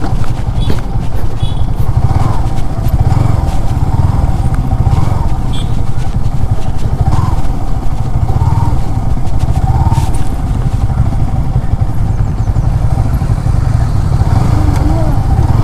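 A motorcycle engine runs loud and close the whole time on the Tindu downhill trail, a continuous rumbling drone with rattling clatter and faint voices underneath.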